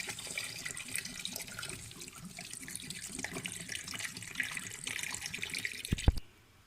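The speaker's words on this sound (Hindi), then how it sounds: "3 लीटर पानी डाल देंगे।" Around three litres of water splash and gush steadily from a tap into a cooking pot for bong paye, a continuous loud stream that stops abruptly at the end, with no voices.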